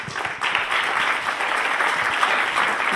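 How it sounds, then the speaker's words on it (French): Sustained audience applause fills a hall as a French employment and vocational-training official is welcomed on stage, steady dense clapping for about three seconds without speech. "Et sous vos applaudissements, nous accueillons Karine Chevrier."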